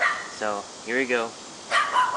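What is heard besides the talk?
neighbor's dog barking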